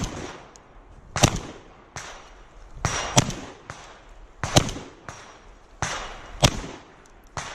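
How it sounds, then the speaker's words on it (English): Shotgun loaded with double-aught buckshot fired at a target about fifteen feet away on an outdoor range into a berm, five sharp loud blasts spaced roughly a second apart, each with a short echoing tail. "Do another 5 rounds of double-aught buck."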